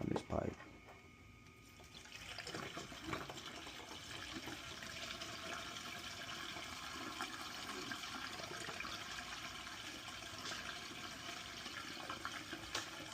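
Hot water mixed with bleach pours steadily down an HVAC condensate drain pipe, a continuous close rushing and gurgling flow after a brief knock at the start.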